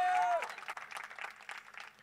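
Brief scattered clapping from an audience at a live talk with film songwriters Raj Shekhar and Ravi, faint and fading out after a short voiced sound at the start.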